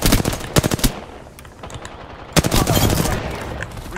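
Rapid automatic gunfire in a team shooter game, with bursts of close, loud shots near the start and again from the middle onward, separated by a quieter stretch.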